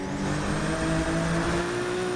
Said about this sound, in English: from the outside, this car just sounds menacing